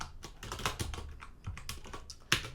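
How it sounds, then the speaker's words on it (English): Code is typed on a computer keyboard in a quick, uneven run of close key clicks with one sharper strike near the end, heard alone. "I'm gonna type build.service.add application"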